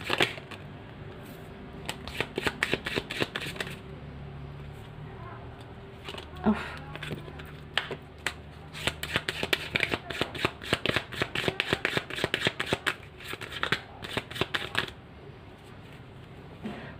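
Tarot cards are shuffled and drawn by hand, giving rapid crisp riffling and flicking bursts in irregular clusters, up close and fairly loud, with soft talking underneath at times.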